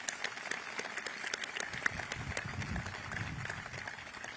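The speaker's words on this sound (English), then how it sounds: "Let's give your mom a big round of applause." A crowd claps steadily at a military change-of-command ceremony for SOUTHCOM in Doral, a broad patter of many hands that swells slightly and holds throughout.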